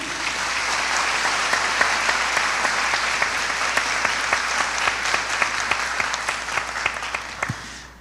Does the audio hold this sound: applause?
yes